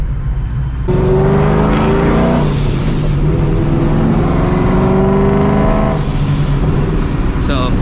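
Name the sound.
supercharged New Edge Mustang GT engine accelerating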